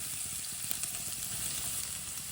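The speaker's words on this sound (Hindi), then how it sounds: "प्याज को 1 मिनट के लिए पका लेंगे चम्मच चलाते हुए" Chopped onion frying in a pan for aloo tikki while being stirred with a spoon, giving a steady, fairly faint sizzle with light scraping from the spoon throughout.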